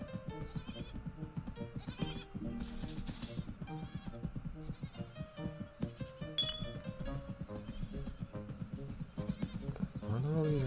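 Sheep bleat in the video game Hanna in a Choppa 2, heard as repeated short calls mixed into busy game music and effects while someone talks over them.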